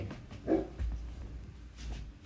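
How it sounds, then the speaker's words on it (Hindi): A dog barks a few times in the background of a home setting, fairly faint and intermittent, with no talk over it. "बहुत भौंक रहा है, देखने दो क्या हुआ"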